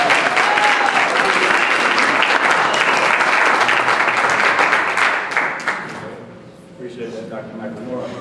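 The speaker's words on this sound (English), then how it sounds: "Let's give him a round of applause." Lecture-hall audience at an evening scholarly event bursts into loud, dense applause that holds steady for several seconds, then fades out as a voice begins speaking.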